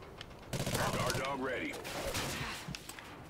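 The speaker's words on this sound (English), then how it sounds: "I don't know who's shooting at me" Gunfire in Call of Duty: Ghosts, a dense burst of rapid shots and crackling fire lasting a couple of seconds, mixed with a voice talking over it.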